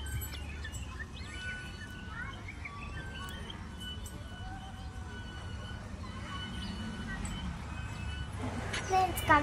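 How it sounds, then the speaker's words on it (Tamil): Sparrows chirp in a park as faint, scattered tweets against a steady outdoor hum, with a voice talking nearby. "சிட்டுக்குருவி."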